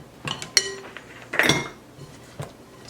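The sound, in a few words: scraping down the sides of a mixing bowl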